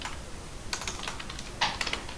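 Fingers type on a computer keyboard, producing quick irregular clicks that grow into a denser, louder flurry near the end, with no one speaking.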